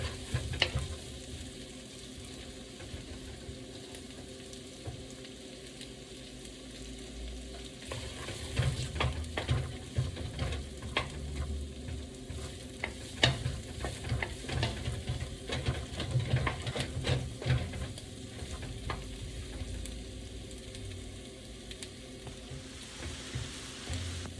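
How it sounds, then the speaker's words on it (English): Sliced peppers sauté and sizzle in a hot pan for pepper steak, a steady frying hiss broken by repeated scraping and stirring clatter that grows busier partway through, with no talk. "So we're just gonna saute these peppers up really quick."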